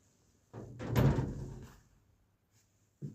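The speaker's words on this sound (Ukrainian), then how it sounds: "Відкриваю двері." A door to a village well swings open with a scraping, creaking rush lasting about a second, then quiet, followed by a short thump at the end.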